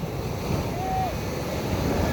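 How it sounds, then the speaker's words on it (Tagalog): Waves wash and churn steadily against a sinking boat amid wind rumble, with a brief faint whine rising above the surf. "Pinaspasan ng alon tuloy."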